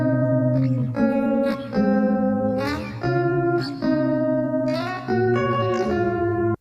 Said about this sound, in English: Let's pitch this sample up 1 octave